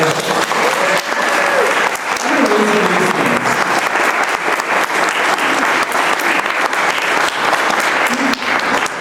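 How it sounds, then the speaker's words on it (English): Loud, sustained applause fills a neighborhood association general meeting as an honoree is welcomed. Many hands clap evenly for about nine seconds, with faint crowd voices underneath. "Can I get a round of applause for her?"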